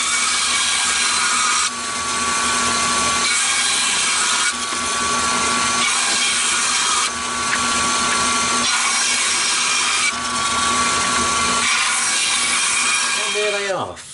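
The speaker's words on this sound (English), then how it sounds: "I'm going to take it to the bandsaw now and we'll cut it into 3/4 inch sections" Bandsaw cutting a resin and denim pen blank into sections, a loud steady mechanical roar with a high whine, broken into several repeated cuts over roughly fourteen seconds, winding down at the end.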